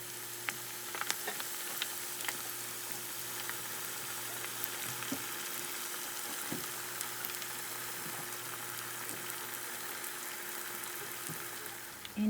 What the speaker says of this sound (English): take your egg rolls and drop it into the oil